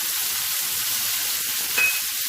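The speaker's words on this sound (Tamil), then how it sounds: "எண்ணெய் சூடானதும் 1 டீஸ்பூன் கடுகு, 1 டீஸ்பூன் கடலைப்பருப்பு, 1 டீஸ்பூன் உளுந்து சேர்த்துக்கலாம்." Mustard seeds, chana dal and urad dal fry in hot oil, a steady close hiss of sizzling with a brief spatter near the end, and no one speaking.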